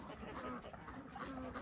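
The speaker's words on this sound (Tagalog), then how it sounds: "duck." Duck on a farm in rural Canada quacking in a short, dense burst of repeated calls, close and fairly loud.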